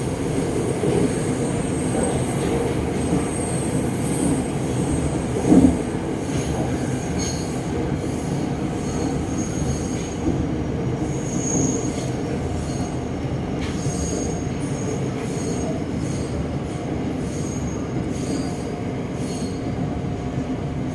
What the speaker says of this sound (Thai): รถก็กำลังโค้งเข้าสู่สถานีกลางกรุงเทพอภิวัตนะฮะทุกคน